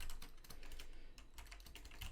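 Rapid typing on a computer keyboard with a layout set to the wrong language, a dense, continuous patter of close key clicks with a brief lull midway, no voices.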